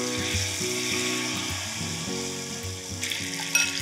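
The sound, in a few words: batter-coated paneer pieces frying in hot oil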